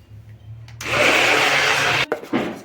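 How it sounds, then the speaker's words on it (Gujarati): A kitchen blender whirs loudly for a little over a second, churning mango with a spoonful of cow's milk cream for homemade ice cream, then cuts off abruptly and briefly restarts. "એ આમાં નાખી દેવાનું હાટું છે ને એમાં બ્લેન્ડર છે એ મારી લેવાનું છે."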